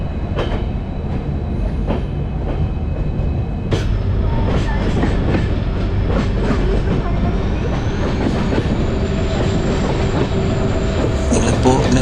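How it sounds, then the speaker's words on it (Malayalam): Train rumbling along steadily with clickety-clack of wheels and occasional squeals, heard from inside the Mangaluru–Yesvantpur Vistadome coach, loud and continuous throughout. "നമ്മുടെ ട്രെയിൻ ഏതായാലും സ്റ്റേഷൻ വിട്ടിട്ടുണ്ട് കേട്ടോ"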